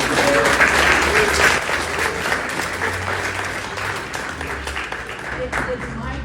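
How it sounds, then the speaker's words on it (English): Loud, sustained applause from an audience at a youth business and tourism pitch event, honoring a city councilwoman, with clapping steady throughout and tapering slightly near the end, voices mixed into the crowd. "A round of applause for Councilwoman Elaine Holmes of Indio."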